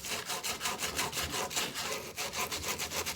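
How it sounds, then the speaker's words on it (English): Yamaha TTR125 motorcycle handlebars are sanded by hand in quick, even back-and-forth strokes, a steady rasping rhythm of about four strokes a second, close and alone. "Along with that, I'll be sanding and painting the handlebars."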